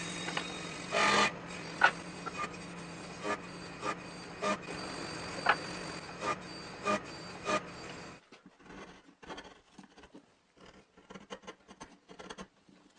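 Rasping strokes cut a slot into a small engine's base to clear the flywheel, a steady scraping run with repeated sharp accents for about eight seconds, then quieter sparse scratches and taps.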